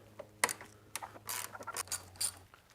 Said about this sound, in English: Those are 8mm bolts at the top holding the shroud in. So remove those.